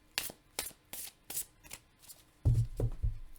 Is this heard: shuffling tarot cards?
yes